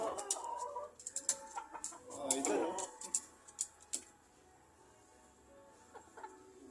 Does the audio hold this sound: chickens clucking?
yes